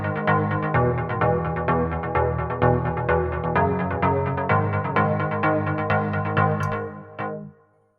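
A big room house synth pluck programmed and EQ'd in Logic Pro X plays a steady, loud repeating pattern of bright, short plucked chords over a full low end, running continuously for about seven seconds before cutting off abruptly.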